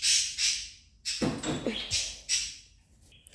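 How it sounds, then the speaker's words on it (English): Pet birds indoors chirp loudly in repeated bright bursts, a few sharp calls coming close together alongside brief rough sounds, with faint speech in the background. "Sorry, my birds chirp really loud."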